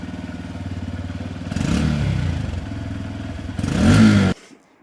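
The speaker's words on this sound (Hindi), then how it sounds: "अब स्टार्ट करके एक बार साउंड सुना देता हूँ बाकी कि इसकी एग्जॉस्ट नोट कैसी है" A Honda CB125 Hornet 2025 motorcycle engine idles with a steady, throbbing exhaust note, blipping louder twice as the throttle is revved, then cutting off near the end.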